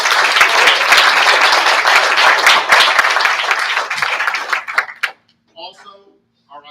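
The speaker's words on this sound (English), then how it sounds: "But can we get a round of applause for Sergeant Major?" An audience applauds Sergeant Major at a closing session, dense, loud clapping that fills about five seconds and then breaks off, with a few scattered claps and brief talk afterward.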